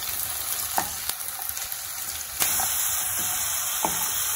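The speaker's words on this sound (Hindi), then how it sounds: "जो आलू हमने काट के रखे थे अभी इन्हें हम गोल्डन कलर होने तक फ्राई कर लेंगे।" Cut potatoes frying in hot oil, an even close sizzle broken by a few sharp utensil taps, with no one speaking.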